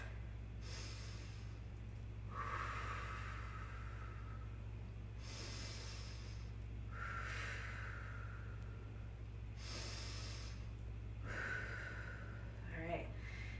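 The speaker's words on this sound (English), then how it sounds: "we're gonna take 3 deep breaths" Slow, deep breaths during a yoga stretching session, about three long inhale-and-exhale cycles spaced several seconds apart, close and fairly soft over a steady low hum.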